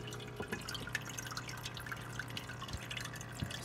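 Water drips inside an AeroGarden Pro 100 indoor hydroponic garden, faint scattered droplets plinking irregularly against a low, steady hum.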